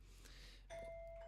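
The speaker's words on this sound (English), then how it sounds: "someone just rang my doorbell" A doorbell rings indoors, a sudden sustained electronic chime tone starting partway through and holding steady to the end, loud and clear against a quiet room.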